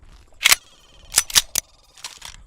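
Incendiary rounds fire in the video game Island 359 as a handful of loud, crackling shots in short separate bursts, with quiet gaps between them.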